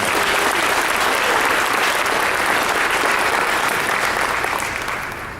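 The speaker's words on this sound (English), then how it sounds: "So let's give her a round of applause" An audience at a high school senior awards ceremony applauds a graduating student, loud sustained clapping from a large crowd that tapers off in the last second.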